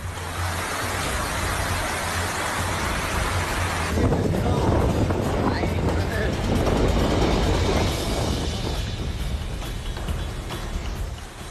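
Heavy rain pours down in Turin, Italy, a dense steady broadband roar with wind buffeting the microphone, growing louder and fuller partway through and continuing without a break.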